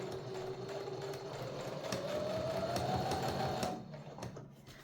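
A home sewing machine runs steadily while stitching a fabric dog bandana, its motor hum rising slightly in pitch before stopping near the end, close and alone with no talking.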